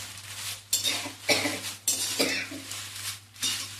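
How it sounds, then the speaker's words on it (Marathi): Whole green chillies roast in a pan on the stove for a masala, stirred and turned with a metal utensil that clinks and scrapes against the pan in several sharp strokes over a faint steady hiss. "मिरची भाजताना असे 2 धारे घ्यायचे आणि असं भाजायचं"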